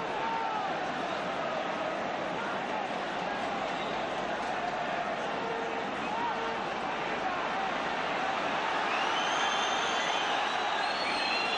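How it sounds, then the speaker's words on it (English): Football crowd in a stadium during a 1979-80 Celtic versus Real Madrid match, a steady broad roar of murmuring and shouting voices that swells slightly near the end, heard at a distance without a break. "Crowd getting a little bit impatient."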